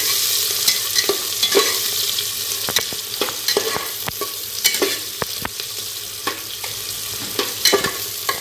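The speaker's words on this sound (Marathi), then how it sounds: "कांदा तेलात टाकला म्हणजे भाजतो चांगला." Onion frying in oil for biryani, a continuous hiss of sizzling under frequent sharp stirring clicks and scrapes in the pan, close and steady throughout.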